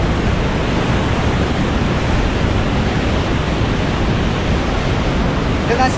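Sea surging in over coral rock on a beach, a dense, continuous roar of rushing water and surf, loud and close with no clear voices.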